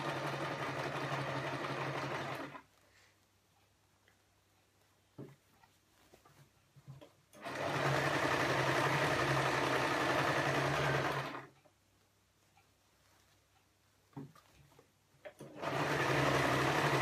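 A sewing machine stitching hefty fabric for a shopping bag runs in two long steady whirring bursts with a quiet pause between, starting again at the end; close and moderately loud, no talk.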